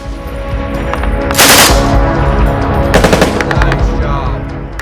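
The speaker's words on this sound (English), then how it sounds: "allowed machine guns to fire more rounds without the risk of overheating" A machine gun fires in rapid loud bursts, with two distinct volleys of dense repeated shots over a steady background roar.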